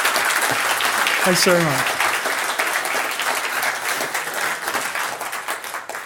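An audience applauds at the end of a talk, dense sustained clapping filling the room, with someone briefly speaking over the start of it.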